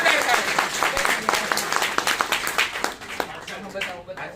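A small group claps and cheers for a few seconds. The clapping is fairly close and runs on under excited voices.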